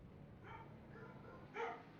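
Faint dog barks in a house, two or three short yips heard quietly in the background over a low steady hum.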